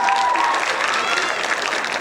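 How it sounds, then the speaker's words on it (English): An audience at a high school jazz concert claps for the soloists, a dense, loud and continuous wash of applause that fills the space without a break. "Give them another round of applause."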